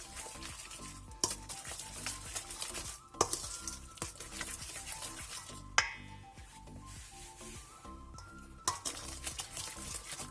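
Whole egg and extra yolks being mixed in a bowl, bursts of brisk stirring and scraping close up, broken by short pauses and a few clinks of the utensil against the bowl, no talk.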